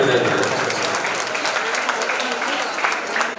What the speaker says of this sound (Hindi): आप सब भी अपने लिए एक बार जोरदार ताली बजाइए।